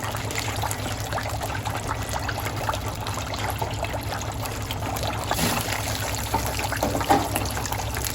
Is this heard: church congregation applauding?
no